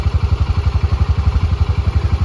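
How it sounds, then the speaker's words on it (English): A Honda Pioneer 700 utility vehicle engine runs at idle to warm its oil before an oil change, a loud, close, rhythmic low thumping chug with a steady clatter and no speech. "Letting it run a little while so the oil will heat up."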